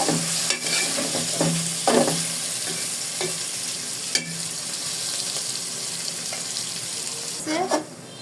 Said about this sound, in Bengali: হলুদটা দিয়ে একটু গাঁচটা ভেজে নিচ্ছি